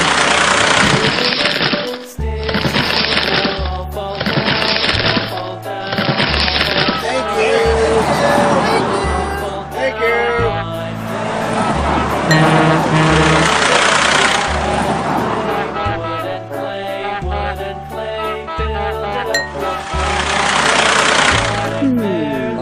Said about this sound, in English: Alright, lower the plow.